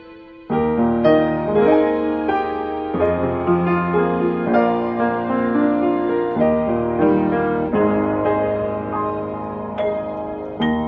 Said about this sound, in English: we've now got piano and strings playing in the background.